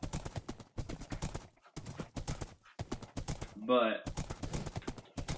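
Horse hooves clip-clop in Minecraft while a white horse moves about, a light repeated clopping running beneath nearly continuous talk.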